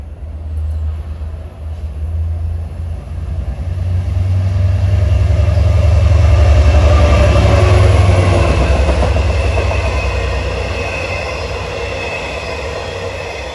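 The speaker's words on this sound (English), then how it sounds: "Approaching now is train 666. He's out of Hunters Point Avenue, bound for Port Jeff, loping along on track number 1." A Long Island Rail Road train bound for Port Jefferson rolls past on track 1 at Forest Hills during rush hour, a loud sustained low rumble with rail clatter that swells to a peak midway and stays close throughout.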